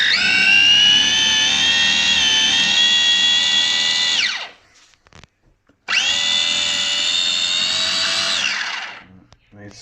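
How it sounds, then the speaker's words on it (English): A blender whirs as it purees freshly picked herb leaves for a low-and-slow mutton shoulder, running in two loud, steady bursts of about four seconds each with a short pause between. "which I'm going to pick the leaves off and blend them up in here"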